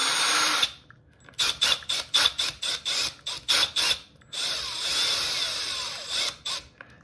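A hand driver tightening a lock nut on a clipless body mount, in a quick run of short ratcheting bursts, a longer continuous stretch, then a few more clicks, close and fairly loud.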